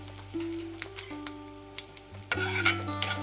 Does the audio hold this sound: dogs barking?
no